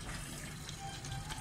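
Coolant draining out of a Mitsubishi Lancer radiator with the radiator cap open, giving a steady, close liquid gush and trickle that runs unbroken and alone throughout.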